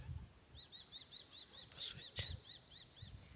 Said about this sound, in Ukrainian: Якісь пташечки так.